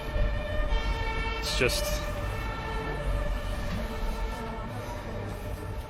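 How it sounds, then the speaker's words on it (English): Emergency vehicle sirens wail steadily along a Berlin street, loud and continuous with traffic noise throughout, as a voice speaks briefly over them. "Permanent sirens."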